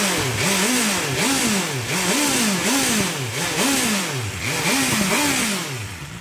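A BMW S1000XR motorcycle engine revs repeatedly in rhythmic surges, each rising and falling in pitch, loud and close with a buzzy, hollow tone.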